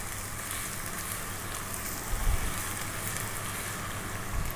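About 100 ml of olive oil sizzles steadily in a pan for an Ethiopian yellow split pea stew, a continuous close hiss with a brief louder crackle midway.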